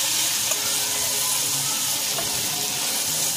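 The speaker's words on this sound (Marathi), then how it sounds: "आता आपण फोडणीला वाल टाकून ते चांगलं मिक्स करून घेऊया।" Val beans are tossed into hot tempering oil with masala and stirred, making a dense, even sizzle with faint scraping underneath, close and fairly loud, with no talk.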